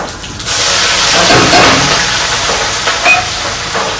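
Asafoetida and whole spices hit hot oil with a loud, close, steady sizzle and hiss that swells right after they drop in, with no talking.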